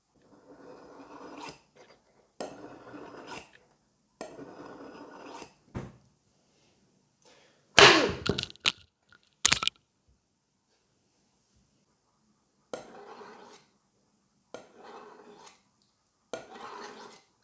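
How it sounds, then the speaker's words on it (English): A knife blade drawn repeatedly across the unglazed bottom of a ceramic mug, bursts of rhythmic scraping strokes separated by silences, close and clear, with a few sharper clinks midway. "After 20 or 30 times repeating this sharpening move of the knife"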